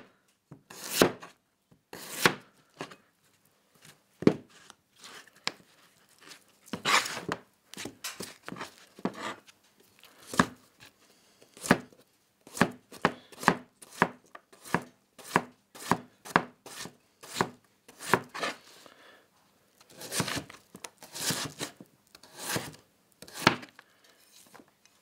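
A chef knife chops vegetables on a cutting board in a long series of crisp, close taps, coming in irregular bursts and single strokes with brief pauses between.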